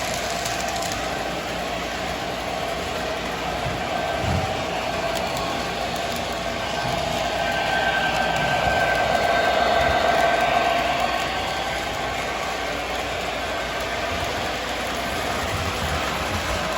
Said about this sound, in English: Run some freight trains up on the top track.